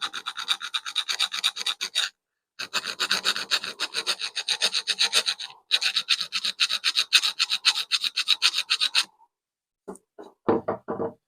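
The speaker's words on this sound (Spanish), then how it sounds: "Ahora le voy a dar con una lija redonda para las esquinas" Steady rhythmic rasping of round sandpaper rubbing back and forth into corners around a Victorian switch on a barge, in several long runs separated by short pauses, close and alone.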